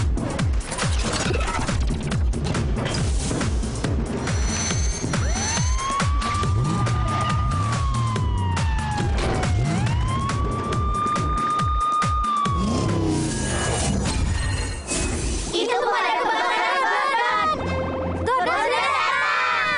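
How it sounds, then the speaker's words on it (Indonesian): A loud wailing fire truck siren rises and falls in long sweeps over busy background noise and voices, then the scene shifts to music near the end. "Pemadam kebakaran Gordon telah tiba"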